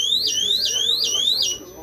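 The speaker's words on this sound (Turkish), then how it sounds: "bir de alarmımız devreye girer" A loud electronic alarm from a motion detector system wails in repeated rising sweeps, four cycles in quick succession, close and steady, then cuts off.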